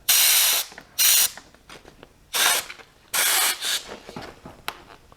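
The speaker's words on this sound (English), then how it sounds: "and then going to add the air hose in here" Short hissing bursts of an air hose puffing up a freeze-dryer storage bag, about five separate blasts of varying length with quiet gaps and faint rustling between them, close and loud.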